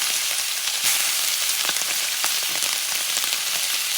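Steak sears in a hot pan with melted butter, giving a steady, dense crackling sizzle with scattered sharp pops, close and fairly loud, with no voices.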